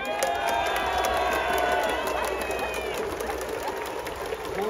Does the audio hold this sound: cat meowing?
no